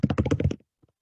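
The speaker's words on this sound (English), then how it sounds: "I'm typing out University of Southern California." Typing on a computer keyboard: a quick, evenly spaced run of close keystrokes for about half a second, then silence.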